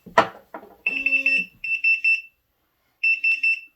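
A four-gas monitor sitting on a desk shrieks in loud, repeated pulsing beep bursts during a butane test, with a buzzing vibration and a short voice at the start.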